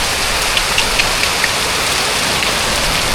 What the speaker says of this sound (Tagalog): Lagapak din yung ulan.